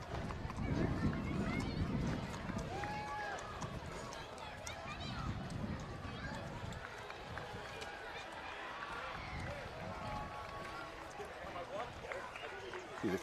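Horses clip-clop along the route of a town's 300th anniversary parade in Holliston, hooves audible amid a busy outdoor crowd with talking voices throughout.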